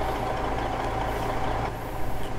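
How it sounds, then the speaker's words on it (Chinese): An American truck engine in American Truck Simulator rumbles steadily at idle, close and continuous, with a low droning tone throughout. "这种还是这种美卡的卡车头的声音好听啊"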